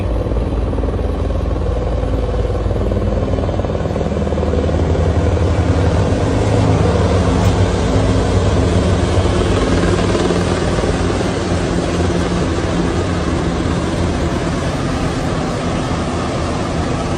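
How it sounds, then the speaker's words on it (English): Several low-flying helicopters roar loudly and continuously overhead, a dense steady rotor thrum with a broad rumble that swells slightly midway and never lets up. "there were 3 helicopters, not 4"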